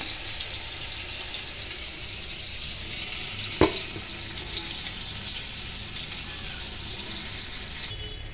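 Tomato pieces fry in a pan on a home stove, giving a steady, moderately loud sizzle throughout with one brief sharp knock partway through and no voices.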